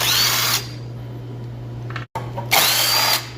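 A cordless impact driver zips in two short bursts, loosening the nuts that hold the carburetor on a YS 624 machine. A quiet pause falls between the bursts, which are loud and close.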